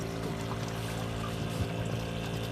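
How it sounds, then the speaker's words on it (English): Old 12-volt pumps run in a garden pond, a continuous close rush of water with a steady motor hum underneath and no breaks. "Old 12-volt hot water pumps"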